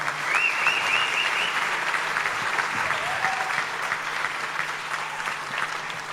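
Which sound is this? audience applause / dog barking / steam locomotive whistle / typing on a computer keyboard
audience applause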